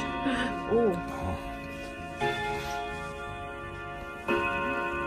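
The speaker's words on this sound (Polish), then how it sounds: "Tutaj mój mąż wyhaczył jeszcze taki zegar Kinzla." An old Kienzle clock at an indoor flea market ticks with steady, faint, regular beats beneath sustained chime-like tones, while someone talks nearby.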